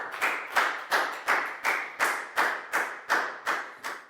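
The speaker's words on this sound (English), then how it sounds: "High five and a big round of applause for Down" A Year 4 math class claps for a student in a steady, rhythmic pattern of about ten close, crisp claps, evenly spaced and with no talk.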